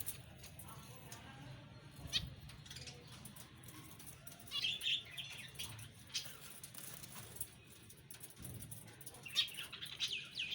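Caged birds in a home garden give scattered high chirps and bursts of fluttering wingbeats, fairly faint and intermittent over a low background hum.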